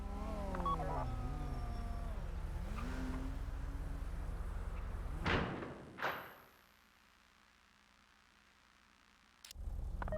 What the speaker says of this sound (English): time to open the vault